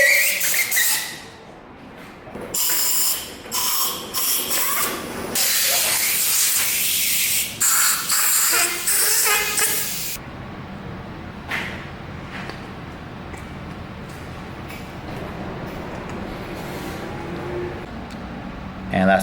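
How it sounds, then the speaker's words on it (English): An air compressor nozzle blasts air to fit BMX grips, loud hissing bursts in several spurts early on, followed by quieter background noise and some talking. "the quickest way to get your grips on is with a compressor"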